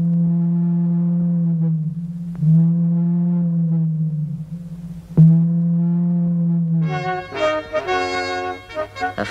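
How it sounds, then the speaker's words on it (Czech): A horn blown in long, steady, mournful blasts, each held for a couple of seconds, the last one rising into a brighter, louder, wavering call. "A co kdyby se zatroubil?"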